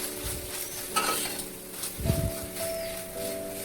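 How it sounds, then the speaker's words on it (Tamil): Onions salted and frying in a pan give off a low continuous sizzle, with a couple of louder scraping stirs and faint clatter of a utensil against the pan, heard close up. "இதுக்கு தேவையான சால்ட் ஆட் பண்ணி திருப்பியும் ஒரு கிளறி விட்டுருக்கேன்."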